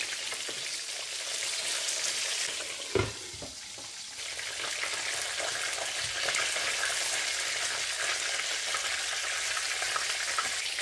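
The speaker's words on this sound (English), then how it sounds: "I just want to fry these parts of the tail and the head so that it will be well done like the others." Fish tail and head pieces frying with onion in hot oil, a steady dense sizzle and crackle running throughout, with a brief clatter of stirring near the start.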